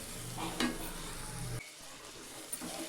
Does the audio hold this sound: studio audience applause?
no